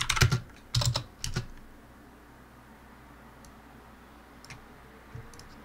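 Short bursts of computer keyboard typing at the start, a few quick clusters of keystrokes, then mostly quiet with a couple of faint isolated clicks.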